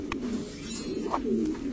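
Turkish high-flyer pigeons, including a racer hen, coo softly at a pigeon market, a low rolling burble repeating several times close by over a steady background.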